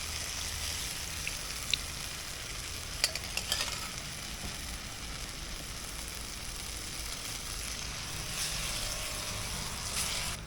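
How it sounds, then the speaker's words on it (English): A big ladle of stock is poured into a hot pan of clams and blue crab, raising a steady, close sizzle and bubbling that carries through with a few light clinks. "Now we're gonna add a big old ladle of our stock."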